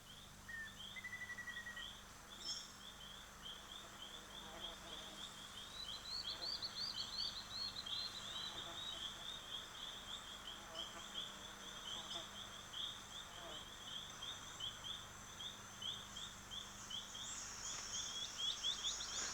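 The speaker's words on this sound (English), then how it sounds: "Predatory ant birds accompany the swarms, feeding on flushed-out insects." Antbirds call in rainforest undergrowth alongside foraging army ant swarms, giving repeated high chirps and trilling notes at moderate distance over a steady hum of insects, with no voices present.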